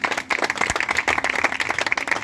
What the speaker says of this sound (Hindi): हम खुदा की शुक्रगुजारी की तालियां बजाएंगे आज के कलाम के लिए।